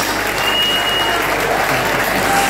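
Sustained, dense applause from a crowd cheering a singer at a music award event, loud and steady throughout with faint voices mixed in.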